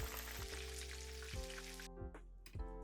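Chicken karaage deep frying in oil at 160 degrees, a dense, continuous bubbling sizzle under a low steady hum.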